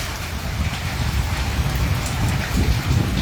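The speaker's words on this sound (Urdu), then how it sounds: "اتنی خوبصورت بارش آپ کو رات کے ٹائم بھی" Heavy night rain pours down during a thunderstorm with wind in Islamabad, Pakistan. The downpour is a loud, dense, continuous hiss, with low rumbling beneath it and no voices.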